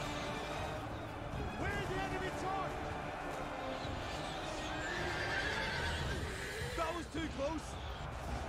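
A horse neighs amid a medieval battle in the strategy game Thrones of Britannia. Whinnies and hoof clatter rise from a dense, continuous din of combat and shouting troops.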